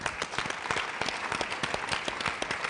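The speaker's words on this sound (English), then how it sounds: "Let's give Tony a round of applause." Audience applause for Tony at a technology roundtable luncheon: dense, steady clapping from a crowd filling nearly three seconds at an even moderate level, with no voices over it.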